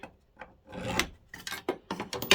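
Short rasping scratches of a hard point dragged across a metal wheel, marking lines about 90 degrees apart, several quick strokes in irregular rhythm, close and fairly quiet.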